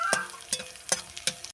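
Garlic fries gently over a low flame in a pan on a wood-fired stove, a soft sizzle broken by four distinct stirring scrapes at a steady pace, with no voice.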